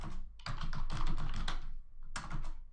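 Fast typing on a computer keyboard, close and busy, in bursts separated by short pauses, with no talking.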